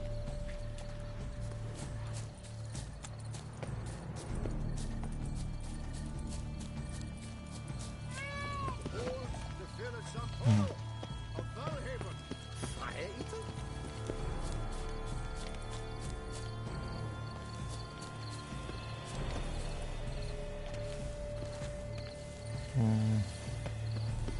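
Horse hooves clop along in The Witcher 3: Blood and Wine, in a steady rhythm under continuous background music and other game sounds, with occasional character speech.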